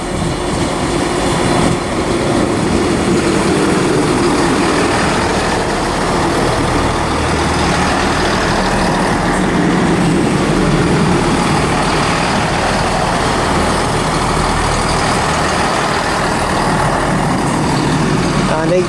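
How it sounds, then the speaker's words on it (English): A Transport for Wales Class 158 diesel unit from Shrewsbury pulls into Birmingham International on the West Coast Main Line, a steady loud rumble of engine and wheels filling the platform throughout, with faint announcements in the background. "arriving now is the terminating Transport for Wales service from Shrewsbury"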